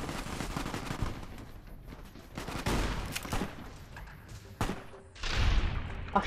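Shotgun blasts in the video game Fallout New Vegas, several loud booming shots at irregular intervals with rumbling tails and other combat noise between them.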